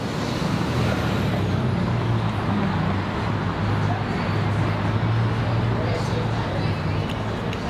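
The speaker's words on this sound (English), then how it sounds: "we're sitting outside and it is crazy noisy with all this traffic" Street traffic roars steadily outside a Montreal poutine restaurant, cars and buses passing in a constant loud wash while people talk over it at an outdoor table.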